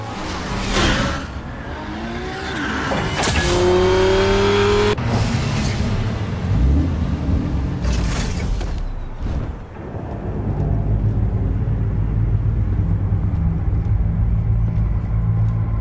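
A car in the Batman: The Telltale Series video game drives along with a loud, continuous engine rumble, rising whooshes and rushing road noise that carry on throughout.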